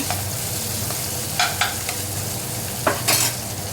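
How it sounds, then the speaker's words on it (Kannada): Onion and garlic fry in oil in a pan, a steady sizzle with occasional sharp scraping stirs of a utensil, close and moderately loud. "ಬೆಳ್ಳುಳ್ಳಿ ಕೂಡ ಅಷ್ಟೇ ಚೆನ್ನಾಗಿ ಫ್ರೈ ಮಾಡಿ"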